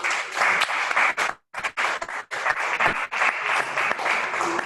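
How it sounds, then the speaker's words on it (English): Audience applause at the Lagos Book & Art Festival, a crowd clapping in bursts, dropping briefly to silence once and then resuming, fairly close and loud throughout. "Please give a round of applause."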